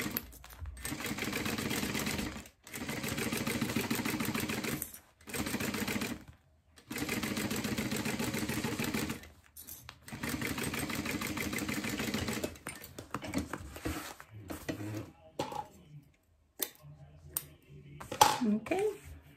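A sewing machine basting fabric pieces for a small organizer, running in several bursts of rapid mechanical stitching separated by short pauses, close and fairly loud, with a voice speaking during the quieter stretches.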